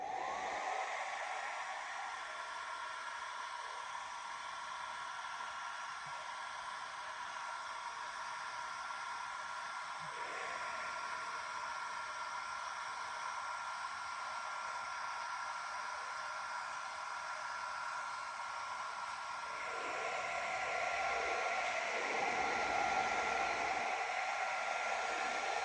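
A hair dryer on its low heat setting blows a steady, soft whooshing rush near the mic while a comb works mustache wax, with slight changes in airflow as it moves.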